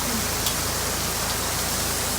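Steady rain falls on a rainy day during outdoor cooking, forming a dense, even hiss of patter that continues unchanged throughout with no break.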